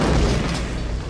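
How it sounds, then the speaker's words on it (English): A huge movie explosion from a John Carpenter film, a loud sustained boom with rumbling low end that stays heavy across the whole moment without fading. "there's an explosion at the end of this movie that is just one of the best explosions"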